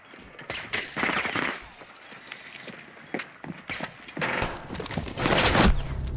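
Gunfire in Rainbow Six Siege, heard as bursts of rapid shots and single cracks at varying distances, with footsteps and game effects mixed in and a short stretch of talk.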